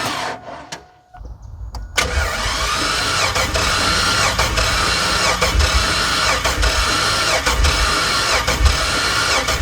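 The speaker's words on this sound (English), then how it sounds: "I'm gonna get my helper to bump it over while we check the compression" After a click of the key, the V8 engine of an old Chevy Avalanche cranks over steadily during a compression test, a loud rhythmic starter churn with regular pulses that never fires.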